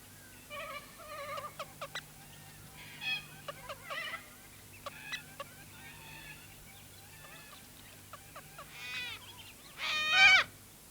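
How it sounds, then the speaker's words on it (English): A male twenty-eight parrot calls to his mate near a tree hollow he has found, giving repeated bursts of whistled, chattering notes at moderate distance over a faint background hum, with a louder flurry near the end. "Nearby, a 28 parrot, so called for the number it seems to call, is trying to interest his mate in coming with him to look at a hollow he's found."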